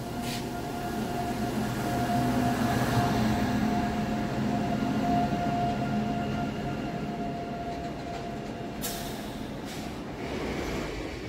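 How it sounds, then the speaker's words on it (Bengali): A freight train passes on the crossing line of the Sealdah–Howrah chord route while a local train waits at the signal, giving a steady, loud rumble with humming tones and rattling wagons that runs throughout. "এই মালগাড়িটা ক্রসিংয়ের জন্য বেশ অনেকটা সময় আমাদের দাঁড় করিয়ে দিল।"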